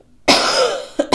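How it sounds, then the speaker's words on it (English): One harsh, loud cough from an adult at close range, followed by two short throat-clearing coughs, with no talking. "So sorry about my cough, you guys."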